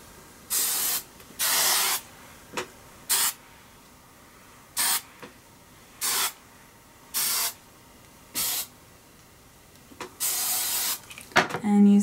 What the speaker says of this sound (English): And then give everything a good spray.